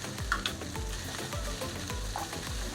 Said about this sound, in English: Add the garlic in. We add shallot in as well,